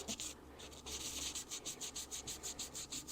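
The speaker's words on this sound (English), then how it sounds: "let's do a little sanding. Get this thing smoothed out." Quiet, rhythmic sanding strokes rasp back and forth at a steady pace on the worn rim of a squat Rhodesian tobacco pipe, close up, with a faint hum underneath.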